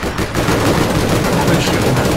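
Rapid sustained automatic gunfire rattles nonstop through a firefight in the online shooter APB: Reloaded, loud and dense with overlapping shots and no pause.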